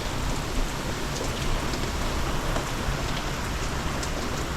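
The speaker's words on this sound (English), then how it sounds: "Moments later we had a rain squall with 30-knot winds." Rain squall with 30-knot winds hitting a sailboat anchored at Prickly Pear in Gorda Sound, a steady loud broadband roar of rain and wind throughout with no pauses.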